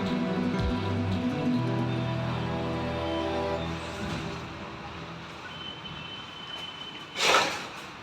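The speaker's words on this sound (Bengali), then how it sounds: "কারণ মুসলধারায় বৃষ্টি হয়ে যাচ্ছে" Heavy downpour of rain pours down as a steady, broad hiss that fills the whole stretch, with some low tonal background noise early on and a brief louder splash of rain near the end.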